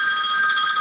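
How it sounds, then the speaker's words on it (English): A telephone rings during a webinar, a short, bright, steady electronic ringing tone heard close and alone. "That was a phone call."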